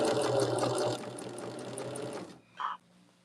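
A sewing machine stitches a quarter-inch seam in quilt fabric for a churn dash block, running in a fast, close, steady whir for about two seconds before stopping, followed by a short mechanical clunk.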